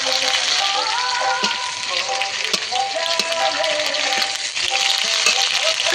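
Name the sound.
onions frying and sizzling with ginger-cumin paste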